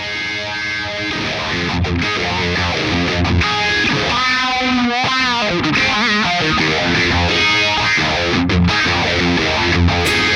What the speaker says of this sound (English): now we wanna have a distortion sound, and dial back the speed of your phaser just a tiny bit again